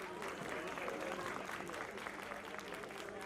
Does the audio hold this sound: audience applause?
yes